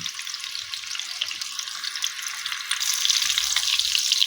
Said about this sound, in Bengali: এখন এগুলোকে ভেজে নিচ্ছি